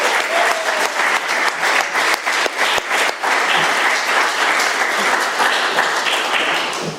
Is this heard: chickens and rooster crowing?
no